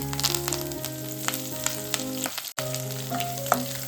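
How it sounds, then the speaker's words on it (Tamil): Chana dal, dried red chillies, curry leaves, chopped garlic and cashews fry in hot oil, giving a loud continuous sizzle close up, briefly dipping before the crackling resumes, with no talk. "ஒரு ஸ்பூன் கடலப்பருப்பு ஒரு கொத்து கருவேப்பிலை அஞ்சு பூண்டு பழம் இந்த மாதிரி குட்டி குட்டியாக கட் பண்ணி வச்சுருக்கேன் மூணு காஞ்ச மிளகாய் அஞ்சு முந்திரி பருப்பு இது எல்லாமே போட்டு நல்லா வறுத்து எடுத்துக்கலாம்"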